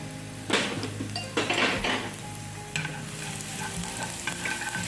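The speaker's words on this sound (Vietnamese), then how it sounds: "Các bạn cho vào đây hết cái chỗ ba rô này, phi thơm nó lên." Leeks frying in cooking oil in a pan as a filling is stir-fried, a steady sizzle with bursts of louder crackling and occasional scrapes and clinks of a utensil against the pan.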